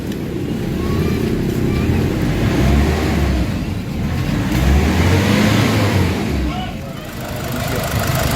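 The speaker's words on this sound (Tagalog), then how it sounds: "So try natin RPM." A Nissan Navara diesel engine with a low-power fault runs close by, rising and falling through revs in a rough, steady drone, with a voice speaking over it.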